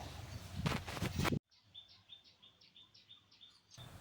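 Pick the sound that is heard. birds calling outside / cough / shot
birds calling outside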